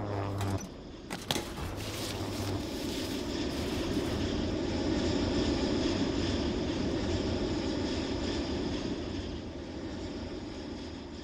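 An airstrike plane in the Roblox game War Tycoon roars past overhead as a sustained, broad engine drone, swelling in the middle and easing toward the end, with a few sharp knocks at the start.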